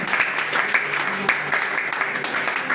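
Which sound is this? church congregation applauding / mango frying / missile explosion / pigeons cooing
church congregation applauding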